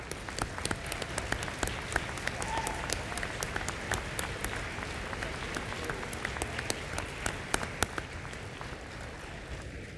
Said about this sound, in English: Harold, can you please stand up and let us applaud your great artistry?